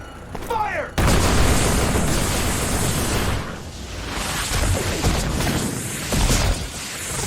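Soldiers open fire in a Scarlet Nexus cutscene: a loud, continuous barrage of gunfire and booming blasts kicks in after a brief opening and rolls on without a break, with a voice briefly heard over it.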